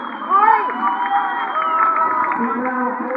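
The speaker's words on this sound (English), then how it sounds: "Big round of applause for the Cardinia Tigers." A crowd cheers and shouts for the Cardinia Tigers football team at a Reclink Footy grand final against the Salvo Hawks, a steady roar of voices with someone talking over it.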